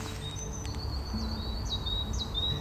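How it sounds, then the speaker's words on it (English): A wild bird sings outdoors on a photowalk, with thin high whistled notes and upward sweeps repeating over steady background noise. "What's that bird?"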